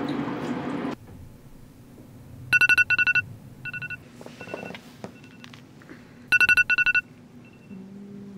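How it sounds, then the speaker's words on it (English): Mobile phone ringtone of short electronic beeping bursts in two repeated groups, clear and close in a quiet room, with a few small handling noises and a low hum between the rings. "your phone went off while you were in the bathroom"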